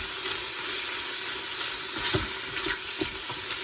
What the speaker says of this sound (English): And we're gonna brown this meat.